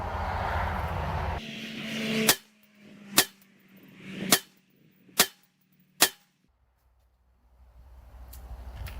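Five sharp, loud gunshots from a SIG MPX 8-inch firing heavy rounds, spaced roughly a second apart, each cracking out and decaying quickly, with faint background noise before and after.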